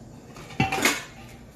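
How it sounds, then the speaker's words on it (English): A metal pot lid clanks as it is picked up and set down onto a pot of simmering peppered chicken and rice, a sharp close rattle followed by a brief ringing scrape. "put a lid on this, and let it simmer"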